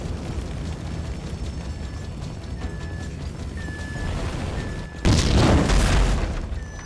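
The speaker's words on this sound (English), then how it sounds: "That explosion must have knocked me out, man." A sudden loud explosion in the video game Grand Theft Auto V during a raid on the FIB building, a heavy roaring blast that bursts out over steady rumbling game noise and lingers as it fades.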